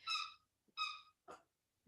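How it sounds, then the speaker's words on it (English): A puppy squeaks a squeaky toy three times in a row, each squeak short and shrill, quite faint against a quiet room with no talking. "my puppy's squeaking her toy right now"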